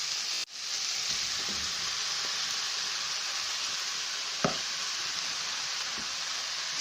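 Onions, tomatoes and mushrooms frying in a pan for a marinara sauce, a steady bright sizzle with a few occasional stirring knocks and scrapes.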